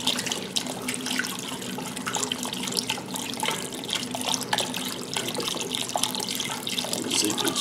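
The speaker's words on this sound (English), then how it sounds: "I've got about 8 cups of this seafood stock we're going to put in there." Seafood stock, about eight cups, streams steadily into a roux for Creole crawfish étouffée, a continuous close liquid pour with faint stirring underneath and no talk.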